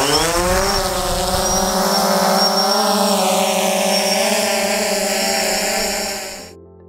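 A camera drone lifts off outdoors on red dirt, its propellers giving a loud, steady, close whine whose pitch slides and wavers before it cuts off abruptly near the end.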